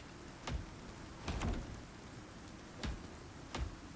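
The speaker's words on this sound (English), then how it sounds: "Isn't exposed enough to the rain." Rain in the survival video game ICARUS: a faint, steady hiss of rainfall, broken by four short, dull thuds spread across the stretch, with no talking.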